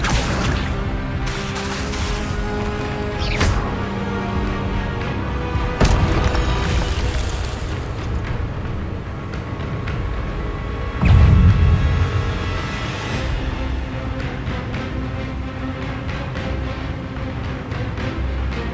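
Spells cast in Hogwarts Legacy: a string of magical bursts, whooshes and booms over a steady backdrop of game music, with one heavier impact near the end.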